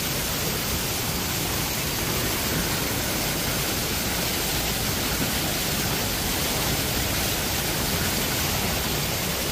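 Water of the Seti River pours into a tunnel with a steady, loud broadband rush that never lets up, close and dense like a waterfall, with no voices over it.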